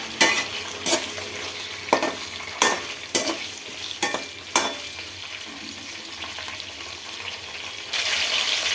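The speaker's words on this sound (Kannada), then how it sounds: "ಸ್ವಲ್ಪ ಟೊಮೊಟೊ ಹಾಕೋತೀನಿ." Tomatoes frying in a pan for a ground-masala tomato bath, with a steady low sizzle broken by several sharp spoon-against-pan stirring knocks in the first half, then a brighter hiss near the end; no talking.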